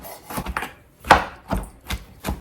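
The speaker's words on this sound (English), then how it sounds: "just continue until you have all of your mushrooms finely chopped" Mushrooms being finely chopped with a knife on a chopping board: about seven sharp, close knife strikes in an uneven rhythm, loud against a quiet background with no talking.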